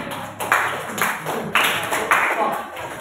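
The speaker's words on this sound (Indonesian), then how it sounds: "Tepuk tangan." A few people clap in rhythmic bursts after a group's school presentation on biogas, the claps coming in several short waves near the listener over low background noise.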